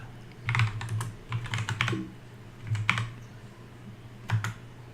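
Rapid keystrokes on a computer keyboard while entering shell commands, arriving in quick bursts separated by short pauses, close and clear over a steady low hum.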